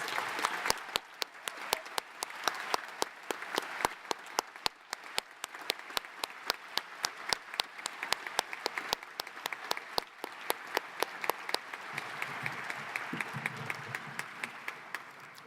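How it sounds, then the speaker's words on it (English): A room full of people applauds steadily at a high school graduation ceremony, many hands clapping in a dense, sustained roar with no one speaking. "Please give them a big round of applause."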